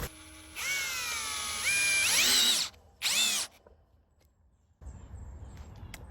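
A cordless power drill whines up close in several bursts as it drives a screw into fencing for a forested wolfdog enclosure, its pitch rising as the motor speeds up, then falling quiet before outdoor rustling.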